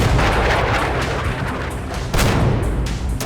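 Heavy gunfire and booming explosions from modded, realistic weapon sounds in GTA San Andreas, a loud, dense barrage of overlapping shots with sharper blasts near the end.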